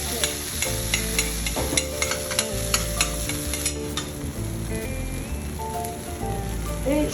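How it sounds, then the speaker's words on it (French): Eggs fry in a pan in a juicy sauce with fresh coriander, giving a close, steady sizzle and bubbling, with occasional clinks and stirring of a utensil against the pan. "Je vais cuire en fait mes œufs à la poêle ici."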